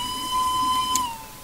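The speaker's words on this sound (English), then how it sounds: "Always good to blow the whistle." A steam locomotive's whistle sounds as one steady, sustained blow with a hissing edge, loud and close, while the engine is being fired with coal.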